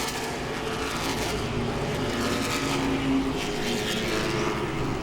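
Late model race cars roar past at Langley Speedway during the Hampton Heat 200, a continuous, loud engine drone that swells slightly as the cars pass, with no speech.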